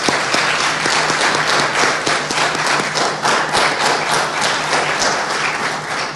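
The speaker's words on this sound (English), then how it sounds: "give yourself a round of applause" Dense, sustained applause from a large assembly of delegates fills the hall steadily and loudly throughout, with no talking.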